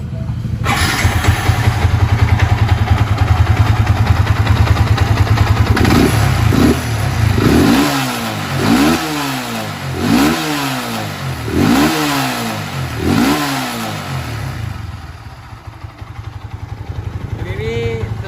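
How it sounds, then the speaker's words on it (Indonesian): A Yamaha Vixion motorcycle bored up to 200cc with a stock exhaust cranks on the electric starter and starts, then revs up and down in repeated loud surges before settling back to a steady idle, close by. "Tinggal kita tes hidupnya. Full starter tetap hidup ya."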